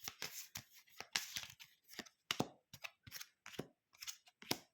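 Playing cards from the Hero Realms deck-building game are shuffled in short, crisp riffles and slaps, close and quiet, coming in a run of separate bursts with pauses between.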